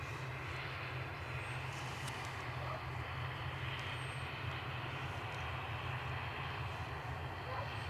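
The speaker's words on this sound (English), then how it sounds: "This ATR is off to Dublin." An ATR turboprop airliner takes off at Edinburgh Airport, its steady low engine drone and broadband roar holding constant and fairly distant throughout, with no talk.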